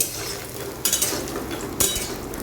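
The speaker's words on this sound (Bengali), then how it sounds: "তো ডালের বড়িগুলো লাল লাল করে ভাজা হচ্ছে" Lentil badi frying in mustard oil, a continuous hiss of sizzling with two sharp spoon scrapes against the pan as the pieces are stirred.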